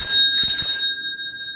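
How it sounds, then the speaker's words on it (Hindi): A single bright ring of a bicycle bell on an Avon Buke Thrust mountain bike, a metallic ding with a quick double strike that decays within about a second, loud and close. "ये एक अच्छी क्वालिटी का 150 का घंटी है। इसकी आवाज़ भी बहुत अच्छी है"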